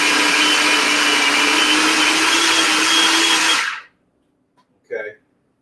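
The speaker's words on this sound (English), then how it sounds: "He's got the food processor. So I'm just gonna pulse it real quick." A food processor whirs loudly and steadily while pulsing a black bean burger mixture, then cuts off abruptly, followed by a brief voice in the quiet.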